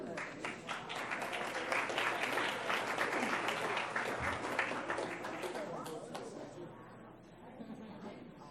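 Audience at a school board meeting applauding art teachers, a sustained round of many hands clapping that tapers off near the end, with a voice talking over it.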